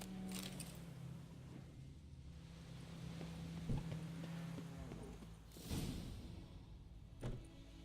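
Roach, a horse in The Witcher 3, clip-clops at a walking pace amid game ambience, with a few louder hoof thuds standing out.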